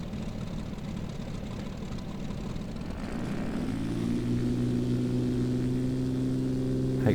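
A propeller aircraft engine in the X-Plane 11 flight simulator starts as a rough, noisy rumble, then settles into a steady droning hum with a pulsing propeller beat that holds loud and constant.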